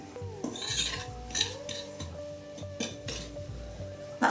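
A spoon scrapes and clinks around a bowl as Demerara sugar is stirred into a crumble mixture, with repeated metallic taps and gritty rubbing close up and no talking.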